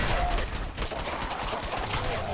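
Companion gunfire in Fallout 4: a rapid burst of shots crackling across the whole clip, dense and moderately loud over a steady game background rumble.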